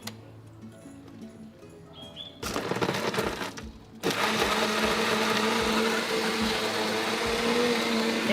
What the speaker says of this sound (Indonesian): Terus kita blender sekarang.